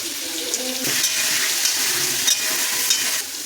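Potatoes frying in oil with tempered spices, a steady close sizzle with occasional stirring scrapes, rising slightly in strength after the first second and holding evenly to the end.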